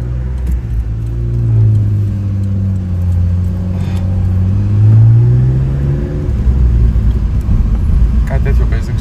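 A weathered Mitsubishi GTO 3000GT with a suspected tachometer fault rumbles close by as its engine revs up and back down, the pitch rising and falling in long sweeps while someone talks over it.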